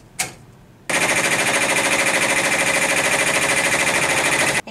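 An embroidery machine stitches a tack-down line on a Christmas flower panel, opening with a single click and then running as a loud, rapid, evenly pulsing hammer of stitches for about four seconds before stopping.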